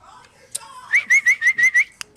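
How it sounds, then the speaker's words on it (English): A man whistles into a microphone: a rising note, then a quick series of about six bright, evenly spaced whistled chirps close to the mic, framed by a few sharp clicks. "Everyone wanted to hear me whistling in the microphone."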